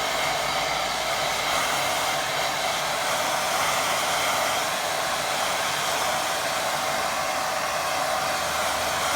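A hair dryer on a low, soft heat setting blows steadily over wet watercolour paint, a constant close whooshing hum with no breaks and no talking.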